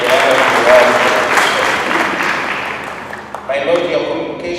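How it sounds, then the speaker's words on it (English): Audience applause at a diocesan church ceremony with a bishop present, loud sustained clapping from a crowd in a hall that gradually thins, with a brief renewed burst near the end. "I think we need to clap again for the honor of the Lord."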